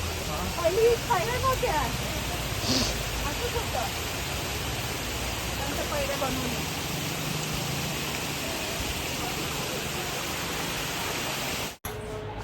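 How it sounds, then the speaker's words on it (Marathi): A constant, loud roar of falling water from the tallest waterfall at Amboli Ghat fills the scene, steady and broadband, with a person speaking briefly over it near the start. "आपण जिथे आलोय तो आंबोरीतील सर्वात मोठा उंच असा धबधबा आहे"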